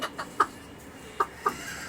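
A few soft, short clucks from a mother hen, three brief calls spaced out over a quiet rooftop background.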